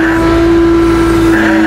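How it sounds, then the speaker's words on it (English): A tow truck winch hums loud and steady at close range as it drags a car forward onto the bed, one continuous motor whine with no speech over it. "So now I'll winch it back forward a little bit"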